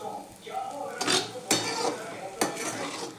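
Homemade pasta is stirred in a pan with a metal utensil, giving three distinct scraping clinks against the pan over a soft background, with a faint voice early on.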